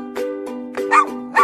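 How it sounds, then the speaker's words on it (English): A dog barks in short, bright, cartoon-like bursts, about five quick yaps in an uneven rhythm, close and clear with no other sound around them. "D is for dog."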